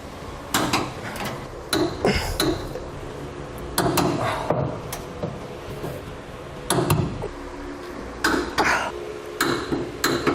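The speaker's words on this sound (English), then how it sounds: "now we'll torque over our hardware to the amount specified in the instructions" Repeated metallic ratcheting clicks come in short bursts with pauses between, close up, as a torque wrench tightens gooseneck trailer hitch bolts on a 2012 Ram 3500.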